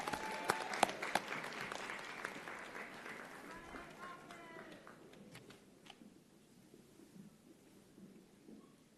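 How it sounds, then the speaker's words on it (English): Audience applause at a nursing school convocation ceremony as graduates leave the stage, a dense clapping wash that is loudest at the start and slowly thins and fades over about nine seconds. "Another round of applause for them as they exit the stage."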